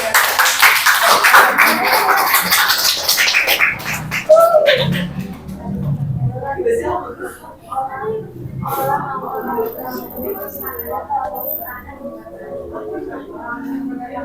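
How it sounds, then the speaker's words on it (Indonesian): A classroom group of students claps hands in a burst at the start that soon fades, followed by a teacher and children talking over the rest. "tepuk tangan untuk kita semuanya"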